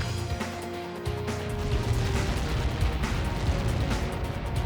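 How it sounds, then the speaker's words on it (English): Explosion impact in the combat flight game Ace Combat 7, a deep rumbling blast followed by a dense roar of crackling debris and booming that lingers at high volume. "How many got caught in that explosion?"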